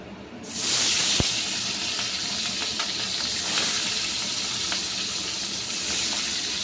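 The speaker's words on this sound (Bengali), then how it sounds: "মাছটা কিন্তু আমি এবার কড়া করে ভেজে নিচ্ছি" Catla fish fries in hot oil until crisp, a steady loud sizzle and hiss with a brief sharp clink near the start, no talk.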